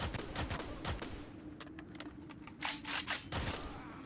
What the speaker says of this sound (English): this red machine gun, it is a mandatory part of your arsenal